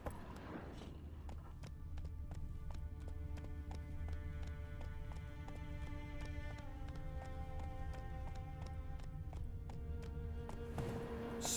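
Roach, a horse in The Witcher 3: Wild Hunt, moves at a steady hoofbeat rhythm of clip-clop steps, close and continuous under a sustained musical score, with no talk.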